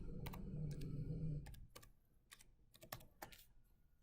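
Computer keyboard typing in a quiet room, a run of soft, irregular key clicks with a low hum under the first second and a half, no voices.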